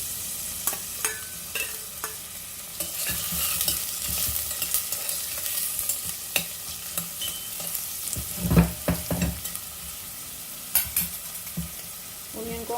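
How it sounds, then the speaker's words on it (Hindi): Onions frying in a spoonful of oil inside a pressure cooker, a steady crackling sizzle with repeated stirring scrapes and clinks, close and fairly quiet throughout. "ऑनियन को हम हल्का सा फ्राई कर लेंगे"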